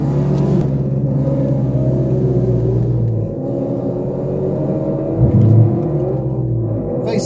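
A car engine rumbles steadily from inside during a ride-along at a Mopar fest, with a low drone that dips around the third second and briefly swells again near the fifth.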